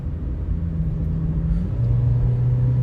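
Low, steady engine hum from inside a moving car, with a constant rumble and a slight shift in pitch partway through.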